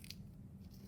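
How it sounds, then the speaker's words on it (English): Dehydrated hydrate crystals, soft and styrofoam-like, are crunched in a quick, faint, close-up crackle, with a couple of brief sharper crunches over low background noise. "It's soft, and you can kind of crunch it up like you would styrofoam."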